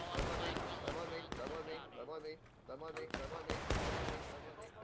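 Cannon artillery fire in a Civil War battle video game, a series of sharp booming blasts spread across a few seconds amid battlefield noise, with voices talking over the gunfire.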